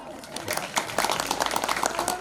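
An audience at a Gayatri Parivar religious storytelling gathering in Orchha, Madhya Pradesh claps in a dense, irregular patter that builds after a quieter start and continues steadily, with some talking mixed in.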